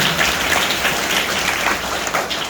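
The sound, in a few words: children clapping at a school event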